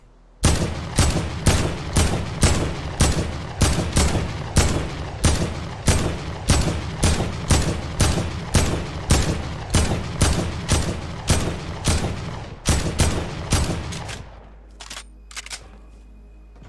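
An AK rifle in Fortnite fires a long run of sharp, evenly spaced shots at targets, about two per second for roughly fourteen seconds, loud and close, then stops, leaving a faint hum.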